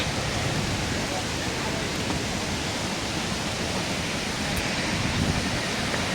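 Hogenakkal waterfalls pour over rocky terrain, making a loud, steady, unbroken roar of rushing water that fills the whole scene without pause.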